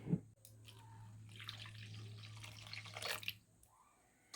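Milk pours into a mixing bowl of whisked batter for vegetable cheesy bread, a soft, quiet liquid splash that builds for about two seconds over a low hum before trailing off.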